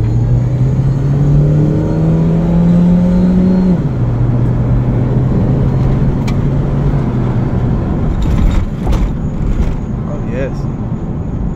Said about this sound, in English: You can give it a little gas and see what it do.